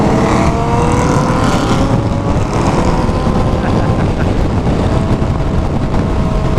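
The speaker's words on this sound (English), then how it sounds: "We got the RS7 and the GT-R, and they might do a quick little pull." Audi RS7 tuned to 700 wheel horsepower and a Nissan GT-R pulling hard together, a steady loud engine roar with rising tones throughout, heard from nearby with strong wind and road noise mixed in.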